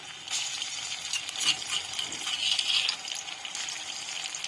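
Crushed ginger, garlic and green chili hit hot oil in a wok, giving a bright, continuous close sizzle with crackling spatters and stirring scrapes.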